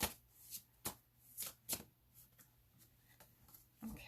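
Tarot cards are shuffled by hand in a string of soft, close riffles and slaps, around eight separate bursts spread irregularly, quiet and with no speech.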